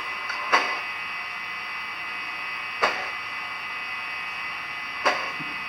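A model Big Boy locomotive creeping along at its lowest speed step gives off a faint, steady mechanical whine, broken by three soft clicks spaced about two seconds apart.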